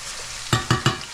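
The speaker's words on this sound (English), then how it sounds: "You really want to see it sizzling nicely like this the whole time." Zucchini sizzles in a hot frying pan with a soft steady hiss, broken by three quick stirring scrapes in a row.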